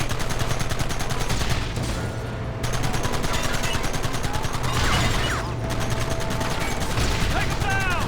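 Sustained automatic gunfire in the video game Red Dead Redemption, a dense rapid machine-gun clatter that runs nearly nonstop with short breaks, mixed with shouting voices.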